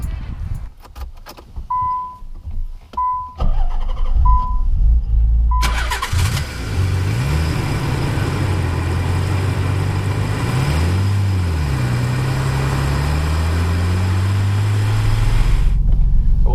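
A Nissan 300ZX twin turbo, fitted with a newly installed 98-plus spec transmission, starts with a crank and catch after brief key jangling, then drives off, engine loud and close as it revs up and down through gears.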